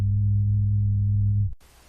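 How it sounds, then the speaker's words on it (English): A pure low sine tone at 100 Hz, left after a periodic tone has all frequencies above 100 Hz filtered out, holds steady and loud for about a second and a half before cutting off abruptly into faint hiss. "Here's the same sound, but with all the frequencies above 100 Hz filtered out"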